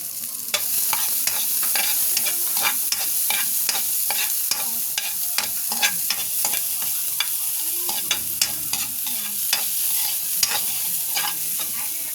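Garlic frying in a pan for spam egg fried rice: a loud, steady, close sizzle runs throughout, with frequent sharp clicks and scrapes of stirring and no voices.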